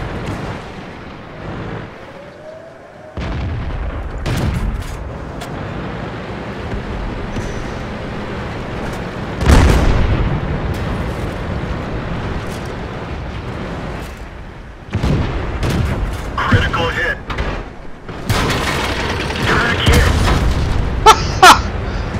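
Tank battles in a video game: deep booms and explosive blasts erupt repeatedly, some close and loud, others softer, with rumbling gaps between the shots.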